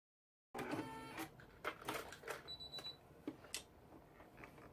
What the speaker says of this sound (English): And now it's finished sewing, stitching out.